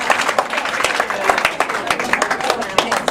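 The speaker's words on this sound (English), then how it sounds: "give yourselves a round of applause." A crowd applauds itself after a group stress-relief exercise at a brain-health event, with fairly loud, uneven clapping full of sharp individual claps, mixed with voices and chatter from the room.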